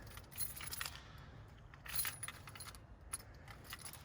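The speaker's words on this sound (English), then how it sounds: "So let me grab my keys." Keys for a 2020 Toyota 4Runner TRD Off Road jangle close up in a few bright metallic bursts with quieter rattles between, and no one talking.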